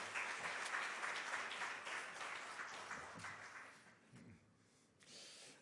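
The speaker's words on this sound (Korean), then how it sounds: "우리 환영의 박수 드리겠습니다" A church congregation at a Friday Holy Spirit service claps in welcome for a missionary, a soft, fairly distant applause that thins and fades before a brief final flurry.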